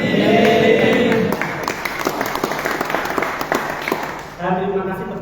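A crowd at an Ansor religious study gathering applauds with dense, steady clapping that gradually thins to scattered claps, while someone talks over it and then continues speaking.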